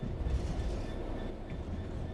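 A locomotive train running in the video game Train Sim World 4, a steady low rumble of wheels and engine with faint rail clatter, continuous and fairly loud with no talk.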